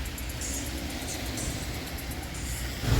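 A vehicle rolls past on a road with a large pothole, a steady mid-distance rumble of tyres and engine with a louder thump near the end.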